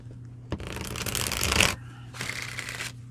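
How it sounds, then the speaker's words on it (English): A deck of cards shuffled by hand, two bursts of riffling, the first longer and louder, the second shorter, close and clear with no talk. "I'm going to shuffle the deck"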